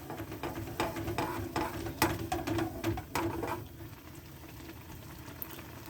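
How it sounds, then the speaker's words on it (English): Water bubbles in a pan with a cooking dinner: a busy crackle of bursting bubbles that is loud at first, then eases to a quieter simmer. "where it's just kind of bubbling off the pan"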